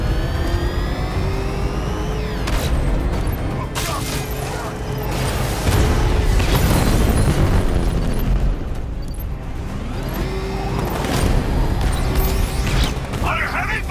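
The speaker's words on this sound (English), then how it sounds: "Rocket launch!" Rockets launch and explosions go off in Batman: Arkham Knight, with dense booming blasts and rumbling mechanical noise that run continuously at high volume under shouted voices.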